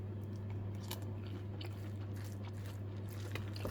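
Someone bites into and chews Korean bibimbap, with soft, close crunches and squishy mouth sounds scattered irregularly over a constant low hum.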